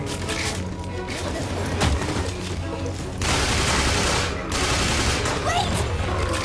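Rapid bursts of gunfire in the Wii game Resident Evil: The Darkside Chronicles, loud volleys of shots with short pauses between them, over a dense game soundscape.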